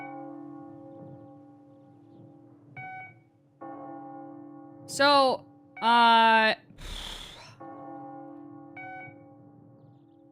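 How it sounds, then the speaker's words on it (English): Hospital monitor beeping in KARMA: The Dark World, steady tonal beeps running under a short spoken word, joined midway by a couple of louder rising electronic warbles and a burst of noise. "you listen to the hospital beeping"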